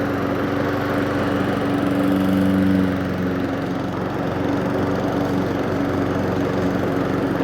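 A Honda lawn mower fitted with aftermarket Wyevee wheels runs over dry grass, its engine a loud, close, steady drone that holds unbroken with no talk.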